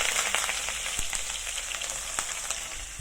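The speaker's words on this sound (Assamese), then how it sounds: "এতিয়া কাটি লোৱা পিঁয়াজখিনি ঢালি দিছোঁ।" Chopped onions hit hot oil with cumin seeds and sizzle steadily and close up, with a dense crackling hiss and a few sharper pops throughout.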